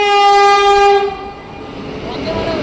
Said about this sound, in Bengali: এদিকে একটা লোকাল ট্রেন চলে গেল